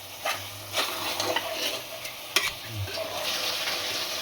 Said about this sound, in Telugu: ఒక 5 మినిట్స్ తర్వాత అయితే ఇలా మూత తీసి ఒకసారి కలుపుకోవాలి